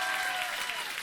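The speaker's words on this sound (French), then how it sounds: "on peut l'applaudir" Brief burst of audience applause at a French comedy awards show, a continuous soft wash of clapping with no voices.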